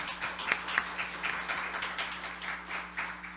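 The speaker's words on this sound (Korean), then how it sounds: "우리 다시 한번 하나님께 영광의 박수 올려드리겠습니다." A church congregation claps steadily together during a Sunday service, sustained applause from many hands, moderately distant with a faint hum underneath and no talking.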